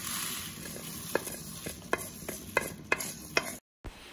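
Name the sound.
coriander seeds roasting in a pan for sambar powder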